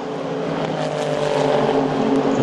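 Formula Renault single-seater race cars roaring past on a circuit as they cross the start-finish line, a loud, steady high-revving engine drone with a slight rising pitch, close and sustained.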